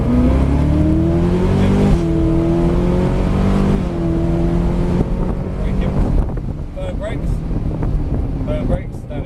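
A powerful car engine roars and climbs through rising pitch sweeps, easing off briefly between pulls, with wind buffeting over the recording.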